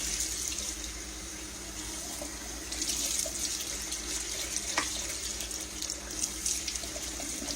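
Water runs steadily from a kitchen tap into a sink, a continuous splashing stream with small shifts as chicken livers are rinsed underneath.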